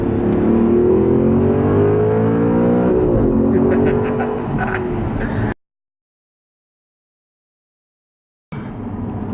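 An Audi R8 supercar accelerates hard, its engine note climbing loud and close through a rising sweep of harmonics and dipping briefly at a gear change. The sound cuts to silence for about three seconds, then returns.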